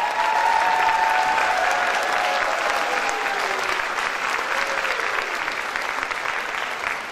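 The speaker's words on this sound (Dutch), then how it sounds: "Ik denk dat u nog wel een applaus voor hem over heeft." Sustained applause from a theatre audience at a grande finale concert show, steady and full for the whole stretch, slightly easing toward the end, with a faint whistle-like tone early on.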